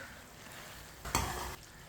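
Spoon stirring chicken and karela (bitter gourd) curry in a pot over a low flame, a short scraping swirl with a soft sizzle rising briefly in the middle of a quiet simmering background.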